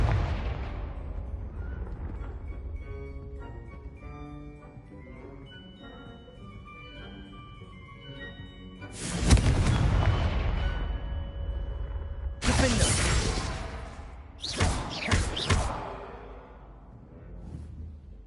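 Spell explosions from the Confringo blasting spell in the Hogwarts Legacy video game land as several sharp, loud booming blasts over a quieter stretch of game music and ambience.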